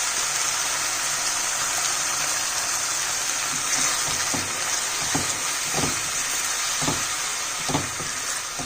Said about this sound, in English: Now it's time to add the coconut milk to the mixture.